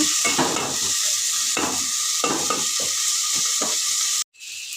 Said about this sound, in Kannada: ನೋಡಿ, ಚೆನ್ನಾಗಿ ಟೊಮೊಟೊ ಮತ್ತು ಈರುಳ್ಳಿ ಚೆನ್ನಾಗಿ ಫ್ರೈ ಆಗಿದೆ.